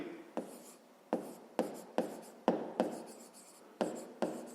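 A math solution being written down by hand, a series of about nine short scratchy strokes and taps of pen or chalk in an uneven rhythm, close and clear with no speech.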